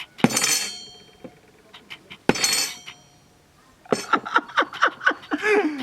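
A lemon frozen in liquid nitrogen is struck with a hammer: two sharp, separate impacts ring out, then a quick run of brittle cracks and clinks as it breaks apart.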